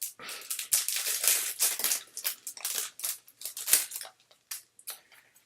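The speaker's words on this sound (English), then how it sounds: "I'll rip open the plastic" Plastic packaging around an enamel pin being ripped open up close, a series of sharp crinkling tears and rustles in uneven bursts that thin out toward the end.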